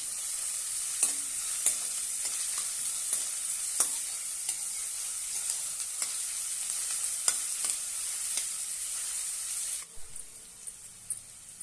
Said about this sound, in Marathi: आता त्यामध्ये एक कांदा बारीक कट केलेला आहे तो घालूया आणि छानपैकी परतून घेऊया